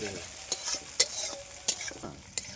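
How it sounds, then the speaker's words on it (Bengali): Duck meat being stirred and fried in a pan, with steady sizzling broken by sharp, close scrapes of a spatula at irregular intervals, and no voices. "লেড়ে যেতে হবে, যত লাড়বে মালটা তত ভাজা হবে"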